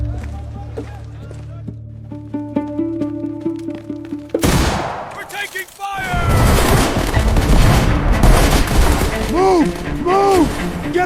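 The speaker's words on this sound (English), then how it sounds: "Artillery batteries opened fire on West Jerusalem, while Jordanian forces launched attacks across the city." Artillery and gunfire from the 1967 battle for Jerusalem at Ammunition Hill: a quiet tonal passage gives way to a sudden loud blast, then sustained close gunfire and explosions mixed with shouting voices.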